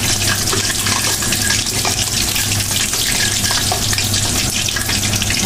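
Sliced eggplant fritters (beguni) are deep-frying in hot oil for iftar. A loud, dense, steady bubbling hiss carries on without a break, with no voices over it.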